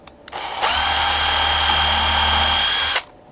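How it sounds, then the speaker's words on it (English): A power drill bores holes through a craft frame, spinning up into one loud, steady whine that holds for about two and a half seconds before cutting off, heard alone without talk. "you're just going to drill holes all the way through like that"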